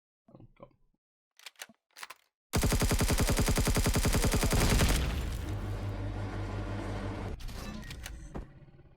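Turrets at a pirate base in Empyrion Galactic Survival open up in a loud, dense burst of rapid automatic fire lasting a couple of seconds, then give way to a rumbling, clattering aftermath, with a few short sharp sounds before the barrage.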